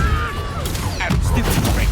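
The Bombarda explosion spell goes off in the video game Hogwarts Legacy, a short cluster of booming, crackling blasts that land close and loud over busy combat noise.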